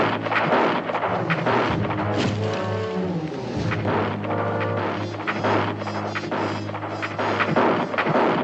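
Rifle gunfire in a frontier Western drama, heard as booming shots over a steady low hum and dense, layered background sound, with no talking.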